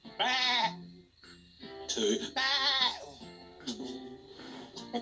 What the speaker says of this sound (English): He tried counting sheep.